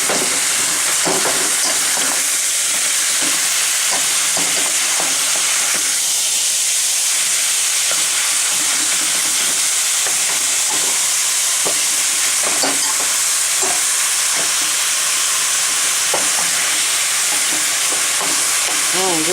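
Lasagna filling browning in a pan, a constant loud sizzle and steamy hiss with scattered pops and stirring scrapes throughout, no voices.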